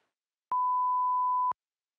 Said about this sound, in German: Bitte hinterlassen Sie doch eine Nachricht nach unserem Piepton.